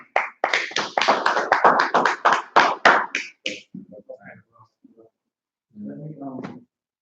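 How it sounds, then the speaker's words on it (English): A burst of rapid, loud clapping from several people, fading into scattered claps, then a short murmur of voices near the end. "Clap it up."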